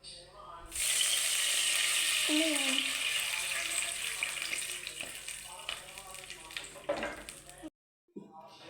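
Loud, steady sizzle erupts as squeezed banana-leaf juice is poured into a hot pan for banana-leaf halwa with grapes and cashews, a brief voice murmuring partway through before the frying cuts out near the end.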